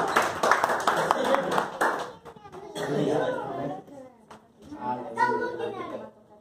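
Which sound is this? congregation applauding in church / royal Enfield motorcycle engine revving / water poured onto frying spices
congregation applauding in church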